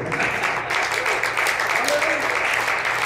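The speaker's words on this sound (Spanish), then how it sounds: "Denos un aplauso fuerte al Hijo de Dios." A church congregation applauds steadily, a dense wash of clapping that holds throughout, with a voice faintly audible underneath.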